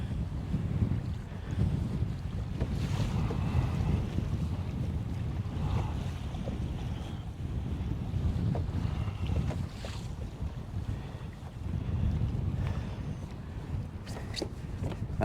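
A small boat under way in wind and swell gives a continuous low rumbling wash of water and buffeting wind against the microphone, steady throughout with occasional surges and no talking.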